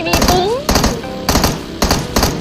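Video game gunfire in a shooting game, several loud bursts of rapid shots in a repeating rhythm across the clip, close and dominant, with no talk over them.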